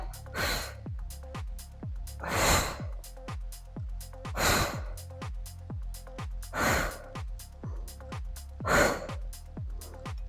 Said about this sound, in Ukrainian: Видих. Видих.